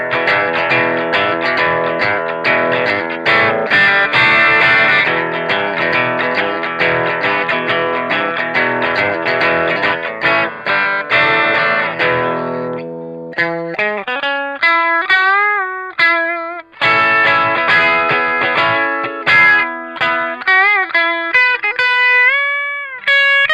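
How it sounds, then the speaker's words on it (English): Heavily distorted electric guitar through an Electro-Harmonix Screaming Bird pedal, bridge humbucker, plays loud, saturated chords, then shifts to sustained single notes and bends that ring out with a thick, gritty tone. "I am really digging how this pedal sounds"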